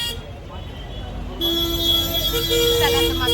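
Sustained honking and traffic din surround an auto rickshaw heading through Delhi traffic to Chandni Chowk market, with a long horn tone and engine rumble that swell midway.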